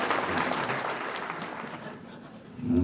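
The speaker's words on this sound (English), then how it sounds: "would you please give a big round of applause" An audience at a New England auto racing Hall of Fame ceremony applauds a driver being honored, a broad wash of clapping that holds steady and then fades out after a couple of seconds.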